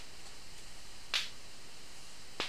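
Two sharp, isolated clap hits from a hardware drum machine's FM snare pitched into a clap, spaced about a second apart over a quiet hiss.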